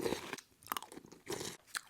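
Crunching on Swiss Rolls cereal, an airy, crisp chocolate cereal, with a few close, distinct bites and chews in quick bursts, heard alone.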